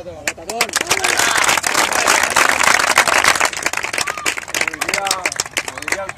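Team applause and clapping at a farewell gathering for a departing member of the EDI Levante side, a dense burst of many hands mixed with cheering voices and babble, steady for several seconds and loud throughout.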